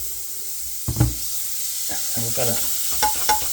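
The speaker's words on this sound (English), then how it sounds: "we put a good clump of butter in the pan" A clump of butter melts in a hot pan before rice goes in, with a steady close sizzle and hiss, occasional stirring scrapes and someone talking over it.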